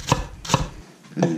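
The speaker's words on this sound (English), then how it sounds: "we're gonna slice this onion nice and thin." A knife slices through an onion on a cutting board, two crisp close chops followed by a third after a short pause, with no talking.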